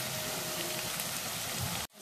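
Chopped garlic with onion and green chilli frying in hot oil in a pan, a dense steady sizzle heard close and alone, cutting off abruptly near the end.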